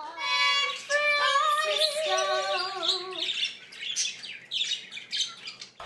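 Parrots at an exotic bird rescue give a string of harsh squawks and whistled chirps, loud and close, with overlapping calls from more than one bird.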